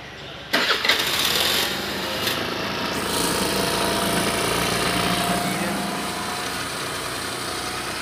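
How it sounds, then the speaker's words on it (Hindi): A Suzuki Access 125 BS6 scooter with a high-idle fault starts with a sudden burst, then settles into a loud, steady, high-revving idle that keeps racing without dropping, heard up close throughout. "एक बार इसका RPM दिखा दूँ स्टार्ट करके कि कितना ज़्यादा रेसिंग है।"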